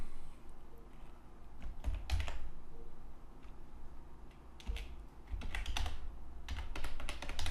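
Typing on a computer keyboard while entering text into a web page table: close, bursty clusters of plastic key clicks come in irregular runs, with brief pauses between them over a low room hum.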